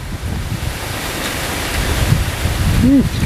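Dry wind blows hard outdoors, roaring across the microphone in a continuous loud gust with buffeting rumble, and a brief vocal sound near the end.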